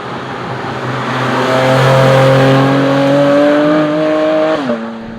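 A 2023 Porsche GT4 RS engine revs up close, pitch climbing steadily and loudly, then dropping sharply as the throttle is released.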